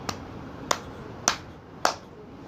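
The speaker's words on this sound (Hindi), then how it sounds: "अब आप अपनी हाथों से 4 ताली बजाएं" Four separate, evenly spaced hand claps from children in a quiet classroom during a counting lesson, each a crisp, sharp snap with a short decay.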